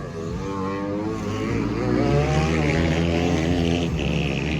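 Dirt bikes in a local enduro race final heat in Cagayan de Oro roar loudly and continuously close by, engines droning and rising in pitch, with race commentary faintly underneath.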